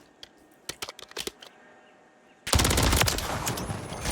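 Modern Warfare 3 gunfight: scattered single shots and short bursts at first, then after a pause a sustained loud stream of rapid fire close by.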